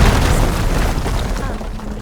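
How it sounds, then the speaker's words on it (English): A wall blown up in Horizon Forbidden West: a heavy, sustained low rumble of an explosion dominates, loud and close, with a voice talking over it. "Aloy, would you mind warning me next time you decide to, blow up a wall?"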